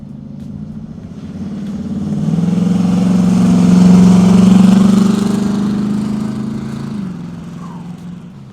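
A 1976 Pontiac Trans Am with a 400 V8, 3-speed automatic and dual exhaust rumbles closer, swells to a deep throaty roar as it passes nearby, then fades away into the distance.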